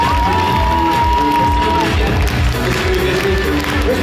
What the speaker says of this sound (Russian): аплодируйте